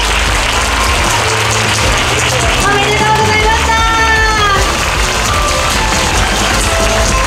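A large audience applauds the four finalists at the Donder world championship finals for the Taiko no Tatsujin drum game, a loud, sustained roar of clapping in a big hall, with electronic tones briefly ringing over it.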